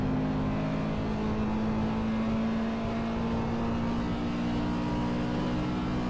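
Simulated GT race cars lapping Imola in Assetto Corsa give a steady, continuous engine drone with a strong sustained tone, loud and unbroken throughout, with no talk.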